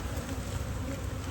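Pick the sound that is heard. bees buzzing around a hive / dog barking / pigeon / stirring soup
bees buzzing around a hive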